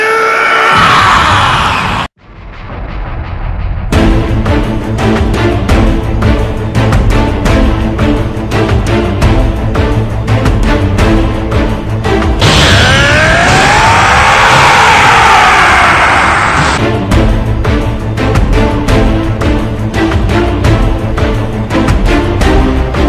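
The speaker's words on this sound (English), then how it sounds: "both Vegito and Gogeta went and they screamed" Anime fighters Vegito and Gogeta scream loudly while powering up, sustained shouting over blaring music and energy effects, with a short silent break early and a rising, wavering scream in the middle.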